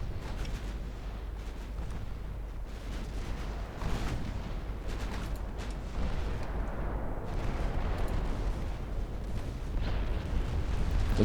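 Rapid-firing 2.6-inch warship guns in Ultimate Admiral Dreadnoughts pound away in a steady, dense stream of booming shots, loud and continuous with rumbling low-end blasts throughout.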